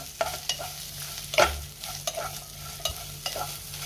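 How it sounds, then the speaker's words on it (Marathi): Onion and dry red chillies fry in oil in a pan, a quiet sizzle broken by regular scraping strokes of a spoon and one louder knock against the pan, with nobody talking. "आता हे 2 ते 3 मिनिटं आपण व्यवस्थित परतून घेऊया"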